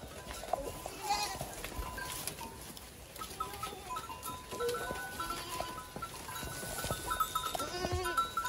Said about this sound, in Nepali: इभिनिङ टाइममा बाख्राको माउहरूलाई टक्क घाँस लगाइसकेको छ।